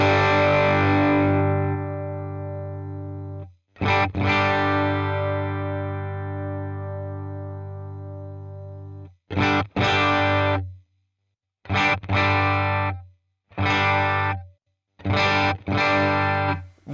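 Electric guitar runs through a Fractal modeling unit set to a Fender Deluxe Vibrato amp model, playing a long ringing chord and then a series of short choppy strummed chords separated by gaps, clear and up close.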